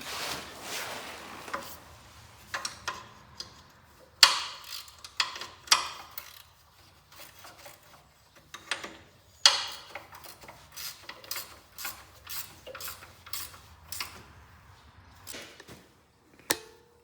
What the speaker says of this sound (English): I'm going to get back underneath it and just tighten up the bolts a little bit more on the steering box